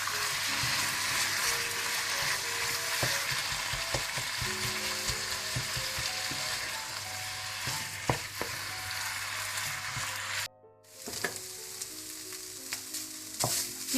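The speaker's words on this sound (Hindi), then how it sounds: "चिकन को मैंने अच्छी तरह से भून लिया" Chicken pieces sizzle and crackle in a hot pan with salt and soy sauce, a steady close hiss with stirring scrapes and taps, briefly cutting out near the end before resuming.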